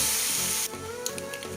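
Red and yellow capsicum with tomato cooking in a pan, a constant hiss and sizzle close by, with a brief clink of a utensil partway through.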